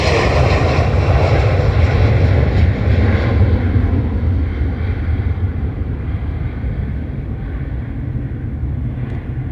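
An airliner takes off from runway 28 right at Dublin Airport, its loud engine roar filling the air at first, then slowly fading and thinning as it climbs away.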